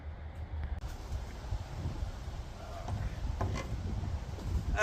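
Wind blows outdoors around a van's rear bumper work area, a steady low buffeting roar against the microphone that swells toward the end, with faint metallic clanks scattered over it.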